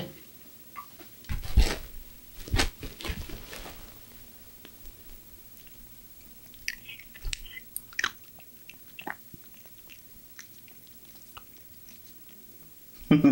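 A pet crunches a treat in a few loud, close bites with scattered squishy chewing between them, heard alone with no talking.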